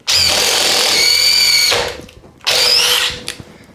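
A DeWalt DCF860 or DCF850 impact driver running loud and close, spinning a quarter-inch drill bit in two high-pitched whining bursts separated by a short pause.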